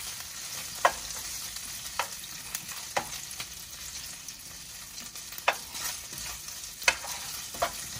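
Meat frying and rendering its fat in a pan, with a steady crackling sizzle and occasional scraping stirs at regular intervals, close and alone.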